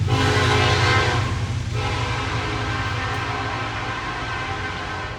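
A passing train blasts a loud, sustained horn that stays close and then slowly fades over the rumble of the rail cars.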